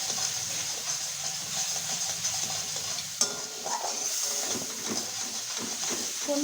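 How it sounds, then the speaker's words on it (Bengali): Spices and taro stolons being stirred and sautéed in a hot pan for a prawn dish in a home kitchen, with a steady close frying sizzle, scraping stir sounds and a brief clatter midway. "এবার এটাকে ভালো করে কষাতে থাকবো।"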